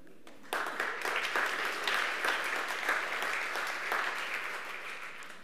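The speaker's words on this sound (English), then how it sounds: "Let's give him a round of applause for being a gold medalist" A conference audience applauds a gold medalist, steady sustained clapping that starts abruptly and fills the room at even loudness throughout.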